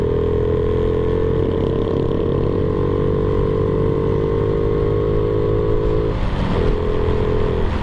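Motorcycle air filter intake roaring at high RPM, a loud, steady, close drone with a brief dip in pitch just after six seconds before it climbs back up.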